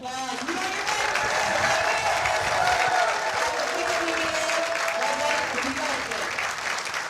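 Sustained applause from a sizable crowd at a women's professional bowling tournament, dense and even throughout, with a voice talking over it.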